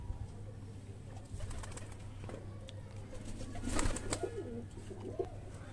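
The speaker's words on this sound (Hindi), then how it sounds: "ये चपड़े कबूतर होते हैं और ये फीमेल है" Female chapday pigeons, high-flyer birds, coo in soft, low, repeated throaty calls near the end, with some light rustling and a faint background hum.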